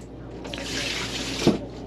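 Dirty laundry water from a small-load folding washing machine, an off-grid East Doll unit, pours out in a steady broadband gush for over a second, ending with a brief splashing surge.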